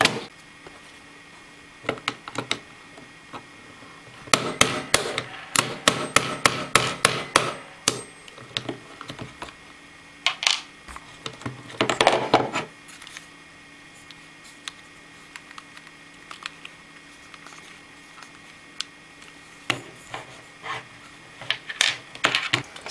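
A hammer knocks out a Glock pistol's trigger pin in a long series of sharp metallic taps, some in quick rapid bursts and others spaced apart, close and clear against a quiet background.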